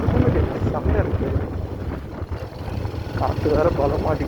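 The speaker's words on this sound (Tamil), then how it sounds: "காற்று வேறு பலம் அடிக்குது" Strong wind buffets the microphone during a motorcycle ride in Chennai, India, with a constant low rumble and roar, while a person talks over it near the mic.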